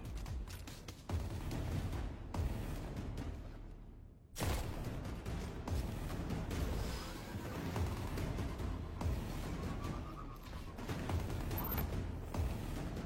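Sniper rifle shots ring out in a video game, sharp repeated cracks spread across a busy stretch of gunfire and combat noise, with one abrupt break near the middle.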